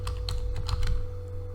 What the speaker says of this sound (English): and here just type